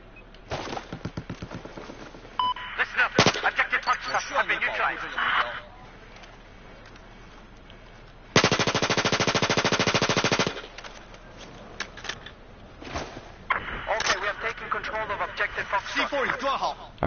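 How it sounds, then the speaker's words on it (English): Rapid automatic gunfire rattles in Battlefield 4 in repeated bursts, with one long sustained stretch of dense shooting, while people talk over the action. "Who the crap is shooting me?"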